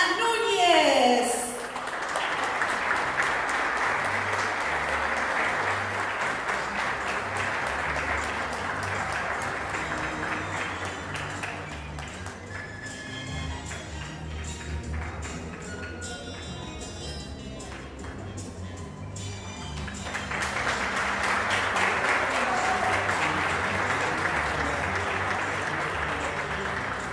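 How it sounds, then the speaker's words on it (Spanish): Long, strong audience applause greeting an honoree at a ceremony in Villa Ángela, continuous clapping from a crowd with music playing underneath, dipping in the middle and swelling again toward the end, with brief speech at the start. "Recibimos con un fuerte aplauso a Mariana Núñez"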